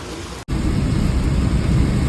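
Rain pours down steadily in the open near a village, a loud, continuous broadband roar that begins after a brief dropout in the first half-second.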